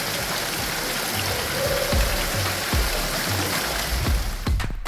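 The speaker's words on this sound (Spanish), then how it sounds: "Una naciente de agua." An underground spring in Humajalanta cave at Toro Toro, Bolivia, gives a steady broadband rush of flowing water, constant and fairly loud, with a few low thumps scattered through it.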